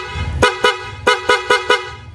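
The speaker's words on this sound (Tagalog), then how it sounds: "Tapos nandito yung loud horn." A loud aftermarket horn on a Suzuki Raider 150 FI motorcycle blares in six short, sharp blasts, the first two spaced apart and the rest coming in quicker succession.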